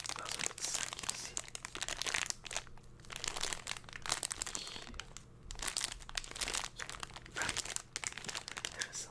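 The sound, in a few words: handling a small bag of board game dice and tokens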